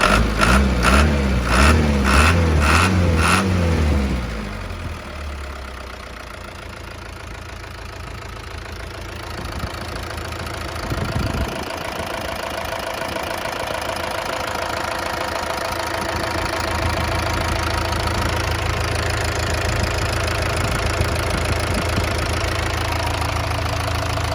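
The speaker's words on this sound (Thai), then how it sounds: "เสียงเครื่องนิ่ม" An Isuzu NPR 115 hp truck's diesel engine revs in rising and falling pulses, then drops back to a steady, rumbling idle that continues with a faint knock.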